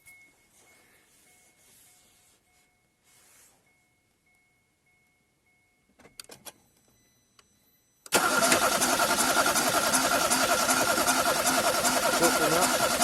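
A 2014 Kia Cerato with overheating trouble and a suspected head gasket fault is cranked after a stretch of near silence, then its engine catches and runs with a loud, steady, close idle roar.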